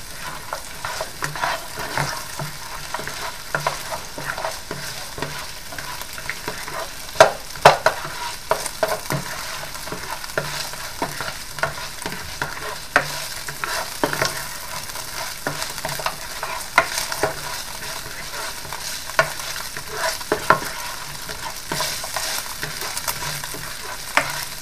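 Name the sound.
sautéing food in a pan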